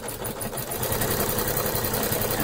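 A sewing machine stitches in a fast, steady mechanical whir with rapid rhythmic clatter, close and continuous with no talking.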